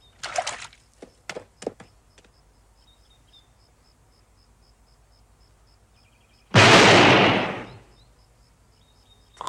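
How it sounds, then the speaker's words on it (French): A single loud, close rifle shot in a western film, a sharp boom that decays over about a second and a half, following a few faint clicks and taps in otherwise quiet surroundings. "Très joli coup de fusil."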